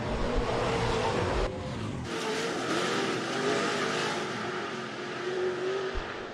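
Late model street stock race cars roar around Rapid Speedway during a lead battle, their engines a continuous loud, broadband drone that dips briefly and then surges back with steady intensity.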